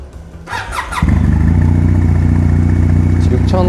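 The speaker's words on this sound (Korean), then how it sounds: "배기음도 좀 담아볼까 합니다" A 2021 Kawasaki W800 motorcycle starts after a brief crank, then settles into a loud, steady, throbbing idle from its exhaust, recorded up close.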